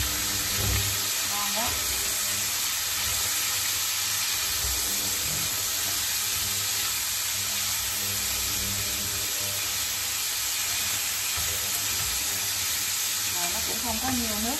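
Squid stir-frying in a pan, a steady loud sizzle and hiss with steam running throughout, broken by scraping stirs, with a voice talking now and then over it.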